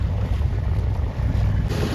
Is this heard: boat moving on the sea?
yes